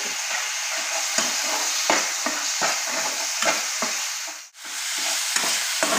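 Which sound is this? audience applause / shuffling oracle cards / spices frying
spices frying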